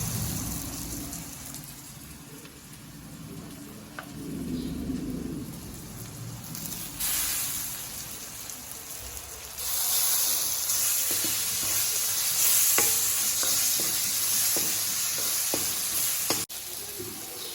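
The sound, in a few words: frying and stirring chopped tomatoes in a pan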